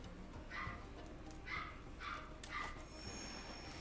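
A small puppy yips and barks in short bursts, about four quick high yelps spaced roughly half a second apart, faint and somewhat distant in a quiet room.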